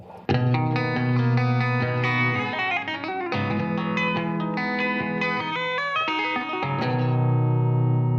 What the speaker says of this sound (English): it's just a simple hammer on and then a slide off